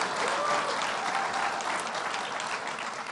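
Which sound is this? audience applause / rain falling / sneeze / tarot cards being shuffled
audience applause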